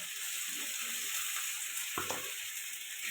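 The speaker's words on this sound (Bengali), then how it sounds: "এটা ভালো করে কষাতে থাকবে রসুন আর আদা একসাথে" Garlic and ginger paste frying in hot oil with green chilli and onion, a constant close sizzle with soft stirring scrapes and one sharper clink of the spoon partway through.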